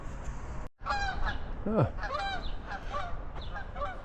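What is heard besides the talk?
geese honking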